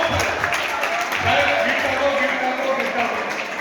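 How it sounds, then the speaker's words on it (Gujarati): A gathered audience breaks into loud, continuous applause, a dense wash of clapping hands that holds steady throughout. "જોરદાર તાળીઓ"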